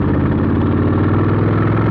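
A 2022 Harley-Davidson Lowrider S with a TBR exhaust, a loud close steady V-twin rumble with a throbbing low pulse, held without change for two seconds.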